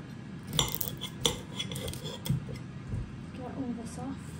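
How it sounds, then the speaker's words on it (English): Knife chopping cucumber and onion on a board, a few sharp, irregular knocks at close range mixed with light clatter of kitchenware. "chopping up some cucumber and onion"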